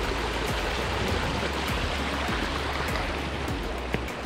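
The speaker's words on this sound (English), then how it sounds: "found a super cool little waterfall" A small waterfall on Stony Fork Creek in Pennsylvania rushes steadily nearby, a dense continuous watery roar with faint splashes and no voices.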